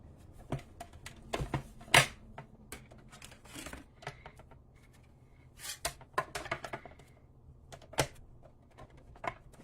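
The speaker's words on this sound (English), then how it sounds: "So I'm going to pull over the Stampin' Cut and Emboss machine." Stampin' Cut and Emboss machine pulled into place and set up for cutting, giving a scatter of sharp plastic clacks, taps and knocks at close range, irregular and fairly quiet, with no talking.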